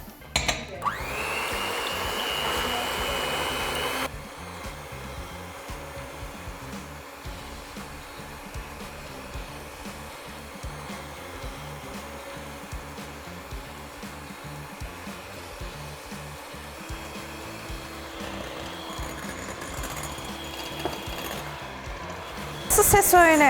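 Electric mixer whisking egg whites with a few drops of lemon juice and a pinch of salt, a loud high whine at first, then a steadier lower motor drone that keeps running, with talk over it.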